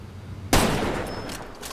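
A single sharp gunshot from a firearm in the video game Far Cry 2 cracks loudly after a quiet lull, followed by a lingering echoing tail.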